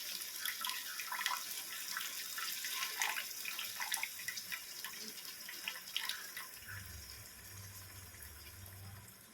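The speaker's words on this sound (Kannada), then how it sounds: "ಈ ಸೈಡ್ನಿಂದನೇ ನೀರು ಹಾಕ್ಕೊಳ್ಳಿ." Water pours into a pan of frying keema balls, a quiet, crackling hiss and splash that carries on for several seconds with irregular pops and no talk.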